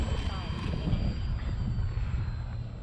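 Valiant aircraft in flight on a gusty crosswind day, a steady low engine drone and rumble with wind buffeting, continuous and fairly loud throughout.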